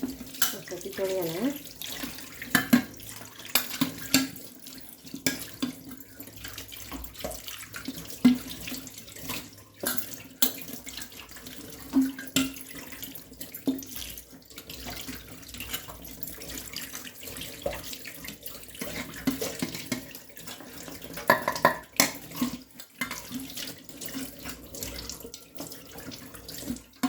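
Tap water runs steadily into a kitchen sink while pots are scrubbed and rinsed, with occasional clinks of metal vessels; the running water is fairly quiet and continuous, and a voice speaks now and then.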